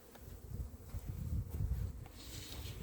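Honeybees buzzing around a pail of syrup in an April apiary, a low droning hum that swells and fades as individual bees fly close past, with no talk.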